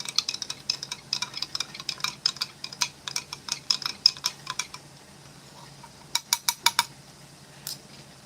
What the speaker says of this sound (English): while I'm stirring my drink